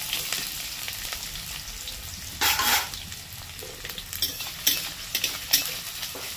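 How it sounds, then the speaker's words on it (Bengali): Finely chopped onion frying in a pan, a close, steady sizzle broken by repeated scraping stirs from a spatula, with no voices. "পেঁয়াজটা একটু ভালো করে ভাজতে হবে"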